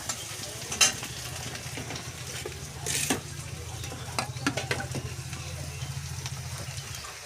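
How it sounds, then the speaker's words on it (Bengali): Spiced meat frying in oil while being stirred, a steady close sizzle with intermittent scraping and clinking of the stirring utensil, no talking. "মাংসতে তেল দিয়ে দিল, মশলাপাতি মাংস আর তেলের সঙ্গে মিশিয়ে নিচ্ছে।"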